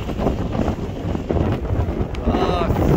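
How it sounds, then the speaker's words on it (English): Strong outdoor wind buffets the microphone at the King of the Hammers 2024 off-road event, producing a loud, continuous rumbling roar that swells and gusts throughout. "Oh, fucking wind."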